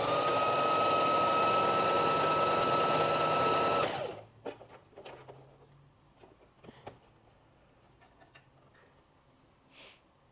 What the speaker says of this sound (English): I'm going to sew the end part of this